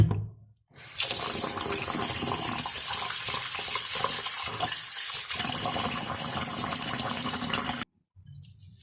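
Rice is washed under a steady gush of running water that pours into a vessel for several seconds, then cuts off abruptly.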